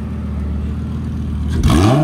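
A Lamborghini Gallardo idles with a deep burble, then suddenly revs hard, the pitch sweeping upward into a loud roar.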